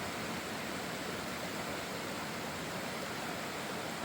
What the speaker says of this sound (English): This waterfall all the way up there.